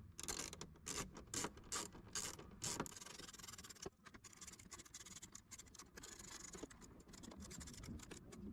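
Screws are driven in by hand to mount a front dash speaker in a 1982-92 Camaro, giving faint repeated ratcheting clicks and scraping turns in short bursts, with quieter handling noise between.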